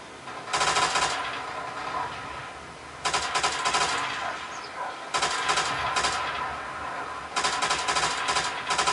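Gunfire in the video game Call of Duty: World at War, four loud, rapid bursts of automatic fire, each lasting roughly half a second to a second, separated by short pauses with background game ambience.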